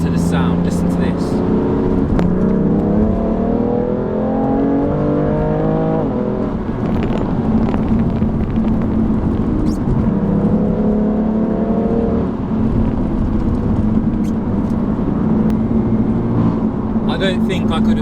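A loud BMW M3 Competition engine revs and climbs through the gears without letup on a race track, rising and falling in pitch as it accelerates hard.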